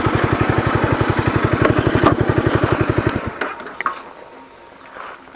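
A Honda CBR 250R fitted with an Akrapovic exhaust idles close by in a fast, even, throbbing beat. The engine then cuts off abruptly, leaving a few light clicks and near quiet.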